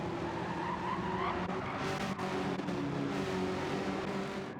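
A race car in a racing video game spins out on the High Speed Ring track, its tires skidding and squealing loudly and continuously over a steady engine roar, with no talk.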